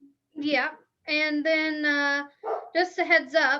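A dog barks and yips in several bursts at close range, overlapping with a person speaking.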